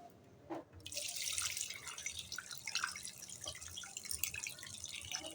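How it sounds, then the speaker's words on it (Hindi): A steady stream of water pours and splashes into a metal cooking pot of mutton, bright and close, with a short clink just before the flow starts. "अब इसमें जाएगा पानी।"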